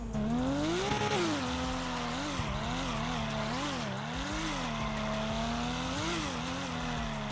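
A car engine in the video game GTA 5 revs continuously on a track, its pitch rising and falling with gear changes and throttle, loud and steady throughout, with no talking.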